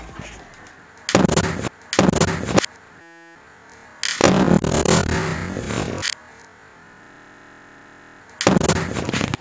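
Gas ignited inside a plastic bottle, set off outdoors as a hazard demonstration, with several sharp, loud bangs separated by pauses, close and forceful against a background hiss.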